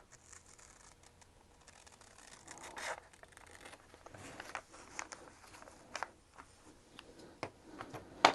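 Scissors cutting through fabric for appliqué, a quiet series of close crisp snips and rustles of cloth, irregular and gradually more frequent.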